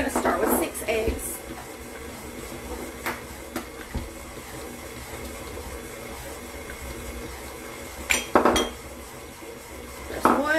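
Six eggs are cracked into a bowl for a chocolate cake batter after the butter and sugar are creamed, with sharp clinks and taps against the dish scattered through the clip amid kitchen clatter.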